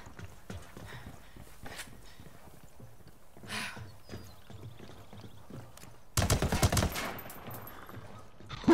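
Gunfire in the video game Ghost Recon Wildlands crackles in bursts, quiet at first, then a loud, close volley after six seconds that rattles on for about a second, with a final shot at the end.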